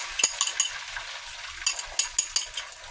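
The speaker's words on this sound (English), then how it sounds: "You guys hear that sizzle? That's exactly what I wanted." An omelet egg cooks low on a hot grill, a faint steady sizzle broken by clinking taps of a utensil against the pan, close by with no talking.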